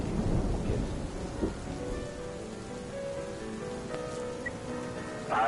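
Rain and thunder from the video game This is the Police, with a dense hiss of rainfall and low rumbling thunder continuing steadily, with a faint tonal hum and a few brief clicks and blips.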